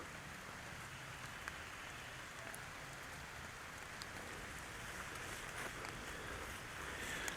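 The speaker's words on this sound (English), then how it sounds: "It's a little drizzly right now." Light drizzle falling outdoors on a hiking trail, a steady soft hiss of fine rain with faint scattered drop ticks, continuous and even throughout, no voices.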